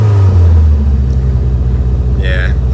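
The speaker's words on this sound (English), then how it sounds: "So I'm gonna crank this thing up. It's got a bit of a weird idle thing at the moment" A Toyota AE86 Corolla fitted with a 3SGE engine idles high at close range, with a loud low rumble and a brief rev near the start, while a voice speaks over it.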